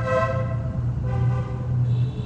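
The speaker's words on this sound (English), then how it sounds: "Yeah, I'll honk." A car horn honks in one long, steady, loud blast that continues for over two seconds, heard close up from inside the vehicle with engine rumble underneath.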